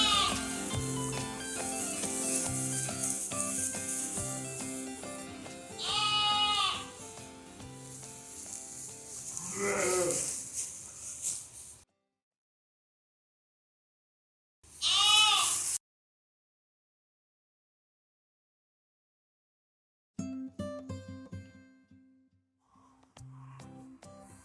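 Lambs and sheep bleat on a farm during lambing season, repeated loud, quavering calls in bursts separated by stretches of silence, with no talking.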